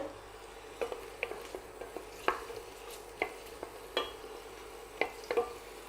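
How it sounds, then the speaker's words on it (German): Onions sautéing in olive oil for a pumpkin-apple soup, a soft sizzle under frequent scraping stirs of a spoon against the pan, sharp clicks at irregular intervals, close and fairly quiet. "Zwiebeln dazu, die werden jetzt schön glasig angeschmorgelt."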